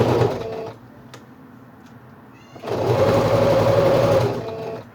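A sewing machine stitches quilted denim fabric for a zipped toiletry bag. It runs in two loud, steady bursts separated by a quieter pause, with no talking.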